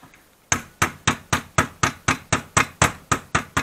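Sharp, evenly spaced hammer taps on a part being driven into a Yamaha TW200 motorcycle carburetor, about a dozen close, loud metallic strikes in steady rhythm with no talking.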